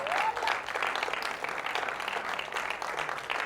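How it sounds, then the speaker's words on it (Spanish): A church congregation applauding during a sermon, a dense wash of many hands clapping at once, sustained and even across the moment, with a faint voice over it at the start. "Vamos, a alguien, denle un aplauso"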